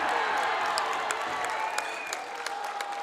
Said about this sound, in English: the crowd rises with that big ovation for Bryce